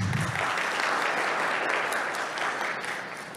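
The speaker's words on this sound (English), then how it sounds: "See that, Luck, even I don't get a round of applause like that." Church congregation applauding a drummer, a steady broadband clapping crowd heard close and sustained throughout, tapering slightly toward the end.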